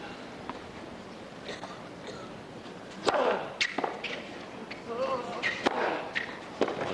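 Sharp racket strikes on a tennis ball during the 2001 Los Angeles final between Agassi and Sampras, several hard hits over a few seconds, heard amid an arena background with some voices.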